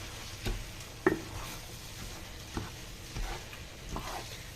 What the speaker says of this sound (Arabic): وغادي نخلط حتى هو يتشحر مزيان مع هذيك لاصوص يعني وخضيره